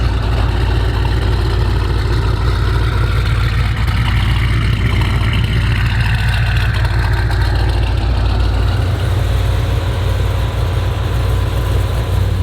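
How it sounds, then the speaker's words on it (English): A twin-turbo, roughly 1600 hp AWD Jeep Trackhawk idles nearby with a loud, steady, deep rumble that holds constant throughout, with no voices. "we're back with James and his twin turbo Trackhawk"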